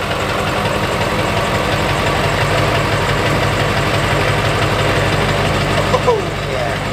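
A 1999 Ford F250 with a 7.3 diesel and straight-piped exhaust, cold start: loud, steady, rough diesel rumble throughout, with a brief extra burst near the end.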